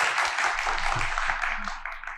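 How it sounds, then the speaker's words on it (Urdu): An audience in a studio applauds, a steady wash of many hands clapping at moderate loudness that slowly fades toward the end, with faint talk underneath. "سب سے پہلے اپنے لیے بھرپور تالیاں بجا دیجیے"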